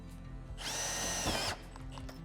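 A power drill drives a screw into the ridge of a metal roof: one loud, continuous whirring burst of about a second, near and alone, with quiet before and after.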